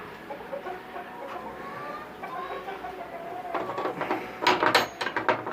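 Young Japanese quail chirp and cluck in quick bursts, growing busier and louder toward the end, with scratchy rustling underneath.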